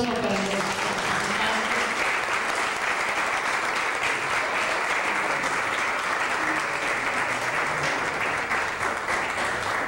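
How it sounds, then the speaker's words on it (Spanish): Sustained applause from an audience of children and adults at a ceremony where teachers receive awards, a dense steady wash of clapping lasting throughout with no pauses. "les pido un aplauso"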